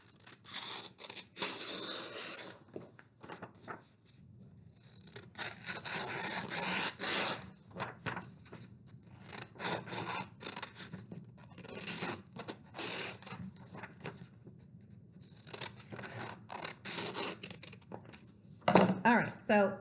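Scissors snipping through paper to cut out a large square, repeated close scraping cuts in bursts with pauses between, no talk.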